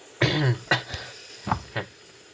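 A few coughs from one person: a harsh, throaty cough followed by several shorter, softer coughs spaced apart, close by and otherwise quiet.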